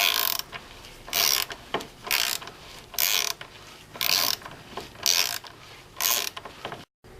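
A star wrench attachment ratchets as it breaks loose the axle on a Yamaha FZR motorcycle. It gives about seven close, crisp bursts of clicking in a steady rhythm, with short pauses between them and no talking.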